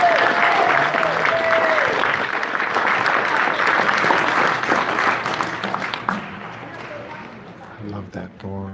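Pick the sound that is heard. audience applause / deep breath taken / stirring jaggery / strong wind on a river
audience applause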